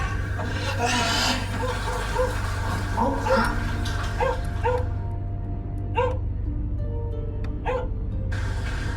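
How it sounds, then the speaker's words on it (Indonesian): Faint dog barks repeat at a distance over a steady low hum, with soft voices talking now and then. "Pak dengar tuh Pak, ada anjing menggonggong Pak."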